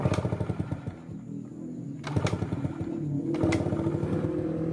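A Fiz R motorcycle engine is kick-started with its ignition pulser under test. Its rapid chugging turnover pulses come in about three bursts, close and fairly loud, with no speech.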